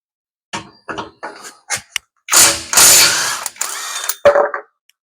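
A ratchet wrench works on the rear wheel bearing bolts of a Perodua Alza, giving several short clicking bursts followed by louder, longer rasping strokes and a final quick burst, close and clear.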